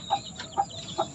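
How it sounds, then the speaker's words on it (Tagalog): Three short clucks from chickens kept in a Philippine backyard alongside ducks, pigeons and a dog, evenly spaced and moderately close, with no talk over them. "mga manok"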